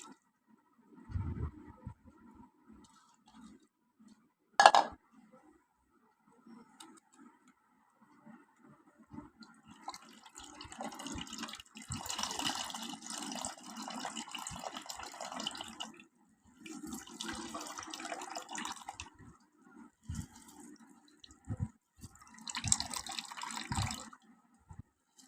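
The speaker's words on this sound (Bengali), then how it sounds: "নেট দিয়ে আমি ছেঁকে নেব।" Watermelon juice strained through a net drips and trickles into a container at home, soft intermittent splashes and liquid patter with a few squishy handling sounds and a sharp knock.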